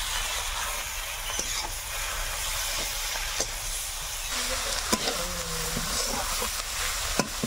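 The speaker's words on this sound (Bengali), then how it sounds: "এদিকে আলুটাকে একটু ভালো করে ভাজতে হবে।" New potatoes fry in a pan in a Sundarban-style Bengali kitchen, giving a steady close hiss and sizzle with occasional stirring clicks and scrapes throughout.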